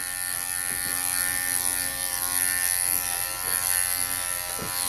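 Electric dog grooming clippers fitted with a snap-on comb buzz steadily and close by while skimming a dog's legs, with faint handling sounds underneath.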